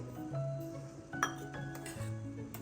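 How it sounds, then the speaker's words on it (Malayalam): Wheat flour and milk stirred in a vessel, with light metallic clinks and scrapes of a spoon against the side, close and quiet, over a low steady background hum. "ഇളക്കി ലൂസാക്കി എടുക്കാം"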